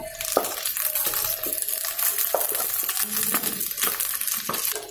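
Boiled, mashed potato being mixed into softened ingredients in a frying pan, with a spatula scraping and clinking against the pan in irregular strokes over a steady low sizzle, close and fairly loud, no talking.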